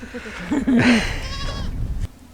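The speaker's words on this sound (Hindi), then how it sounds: "ये देखें भैंसा है जी ये, और हमें देख के बहुत शोर कर रहा है" A buffalo in a rural hill village lets out a loud, close, wavering bleat-like call lasting about a second, followed by rustling and shuffling.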